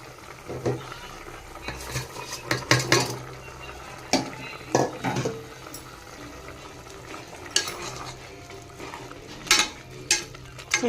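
Rice being stirred into a pot of boiling vegetable pulao, with a spoon scraping and clinking against the metal pot in irregular bursts over a soft bubbling background.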